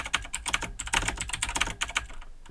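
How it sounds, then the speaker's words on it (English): Rapid, uneven clatter of keys on a computer keyboard as values are entered into a vector for a stock portfolio calculation, close and clear with no talking. "So I'm just going to type in a vector"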